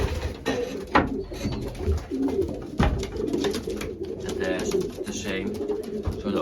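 Racing pigeons in a loft coo and rustle steadily and close by, with soft wing flutters and low murmuring calls.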